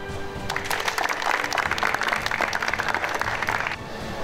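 A group applauding six new army recruits at a military band ceremony, a steady burst of clapping for about three seconds, moderately loud, rising and fading out.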